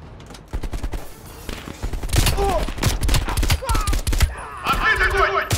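Bursts of rapid gunfire crackle over game sounds and some voice activity in Call of Duty: Black Ops Cold War, with repeated sharp shots coming in quick clusters.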